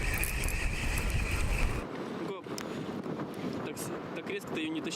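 Wind gusts across a lake during fishing, buffeting the microphone as a rough, loud rumble that cuts away abruptly partway through, leaving fainter outdoor noise under a talking voice.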